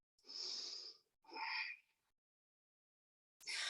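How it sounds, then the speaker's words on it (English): Deep breaths drawn during yoga practice, two close, airy, breathy exhales in quick succession followed by a pause and the start of a third, loud against an otherwise silent room. "Full, big, deep breath."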